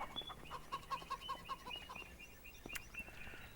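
Chickens in Farming Simulator 25 clucking in a steady series of short, evenly paced calls at close range, with a few higher squawks over soft farmyard ambience.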